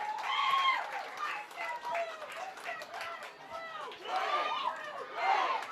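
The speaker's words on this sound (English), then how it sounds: "Darien faithful now cheering for that one" Home crowd at a women's lacrosse game cheering and shouting after a Darien goal scored on a free position shot, a loud sustained roar of many voices that swells again near the end.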